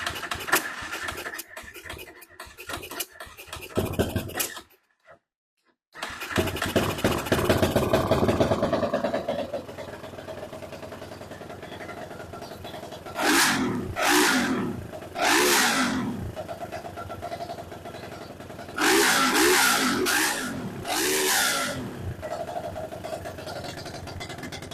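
A BSE J10 motorcycle engine cranks, stutters, then catches and idles roughly before a series of sharp revs with distinct bursts, loud and close, with a brief pause early on.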